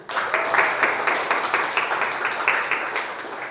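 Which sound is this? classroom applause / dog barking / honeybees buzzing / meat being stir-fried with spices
classroom applause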